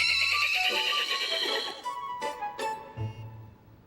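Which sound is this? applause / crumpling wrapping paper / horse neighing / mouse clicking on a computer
horse neighing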